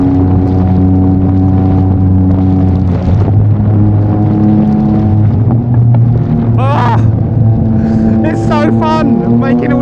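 A Yamaha MT-09 motorcycle fitted with a Mivv X-M50 exhaust holds a loud, close engine drone whose pitch rises and falls as it revs, with someone talking over it.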